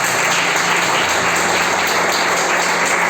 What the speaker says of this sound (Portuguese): As palmas exaltam o Senhor.